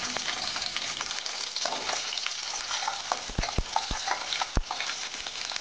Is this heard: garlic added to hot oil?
yes